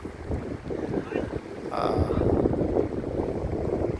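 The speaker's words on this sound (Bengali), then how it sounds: "মাঝারি মানের নৌকা সেই নৌকায় একেবারে যাত্রী বোঝাই করে তারা এই পাশ থেকে ওপারে যাতায়াত করে থাকে" A medium passenger boat packed with riders crosses the river at Nijhum Dwip, its engine a low, steady rumble under wind buffeting the microphone, with a brief whistle-like tone midway.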